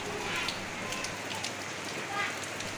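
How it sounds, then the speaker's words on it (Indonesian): Heavy tropical rain pours down in a dense, steady hiss of drops striking surfaces, loud and continuous throughout. "ini jamnya papa pulang kerja tapi malah hujan deras banget teman-teman"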